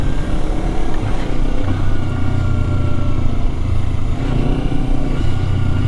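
Kawasaki Versys 300 motorcycle rides off road over loose sand, its engine droning loudly and steadily with slight rises in revs throughout, close and continuous with no talking.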